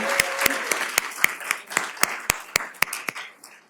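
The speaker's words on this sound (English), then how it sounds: "Let's offer another round of applause for the Frederick County Mass Choir." An audience at a Black History Month celebration claps for a mass choir, individual claps ringing out in a sparse, uneven patter rather than a dense roar, fairly close and with no voices over it.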